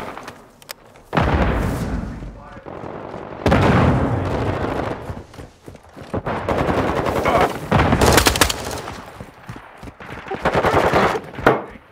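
MP5 fire in the Modern Warfare 2 beta: loud, close bursts of rapid automatic gunshots in several long stretches, with other gunfire and impacts mixed in and little talk.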